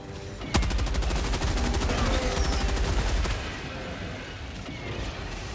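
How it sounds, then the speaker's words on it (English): A heavy machine gun fires in Helldivers 2, a loud burst of rapid, evenly spaced shots that begins abruptly and rattles on for close to three seconds before cutting off, leaving a lower background rumble. "do you mind if I use your heavy machine gun?"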